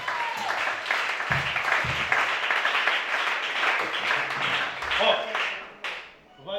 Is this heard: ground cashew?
no